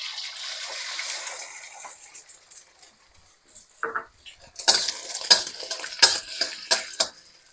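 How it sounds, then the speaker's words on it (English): Egg scrambled in a hot wok with metal wok tools: a soft sizzle fades, then sharp scraping clinks and clacks of metal on the wok in an irregular burst, close and clear. "using our wok tools, we're going to slide in the egg and start scrambling it"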